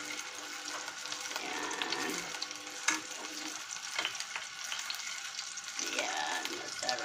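Spicy homemade skinless pork longganisa sausages fry and brown in a pan, giving a steady close sizzle with scraping stirs and a sharp clatter near the middle, with no talk.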